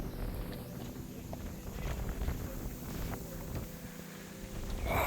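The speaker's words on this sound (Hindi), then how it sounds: "काफ़ी ज़्यादा हवा चल रही है।" Strong wind buffets the microphone on a hilltop fort at Torna, a steady roaring rush that swells and gusts throughout, loud and close with no speech.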